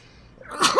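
A single close, sharp human sneeze bursts out at the end after a quiet moment.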